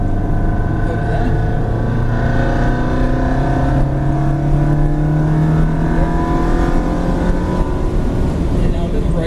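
Race car on a track, recorded from inside the cabin, its engine roaring loud and steady with rising and falling pitch through each shift, under a voice giving driving instructions.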